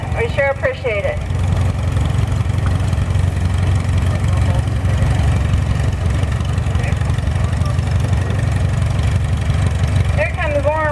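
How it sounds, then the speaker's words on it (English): A John Deere 630 antique tractor at a tractor parade chugs along at a steady idle, a continuous low mid-pitched engine beat, with brief voices near the start and end. "Here comes Warren Rollcoats on John Carlson's John Deere 630"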